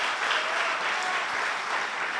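A church congregation at a Sunday worship service claps together, a dense, steady round of applause filling the room.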